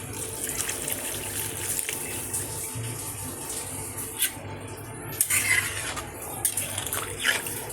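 Water is poured from a little height into a shukto cooking pot, splashing with a steady gush for several seconds and punctuated by a few louder spurts and kitchen clatters nearby.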